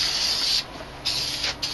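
Spray paint hisses from an aerosol can onto a computer case in a garage, a loud close continuous spray followed by two short bursts.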